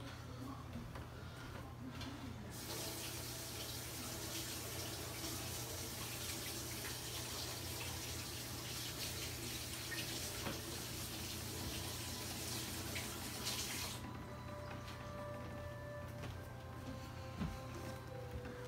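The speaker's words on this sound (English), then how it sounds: "Let me wash my hands." Tap water runs into a sink during hand washing in a home kitchen, a steady faint rush that swells for several seconds and then drops back, over a constant low hum, no talk.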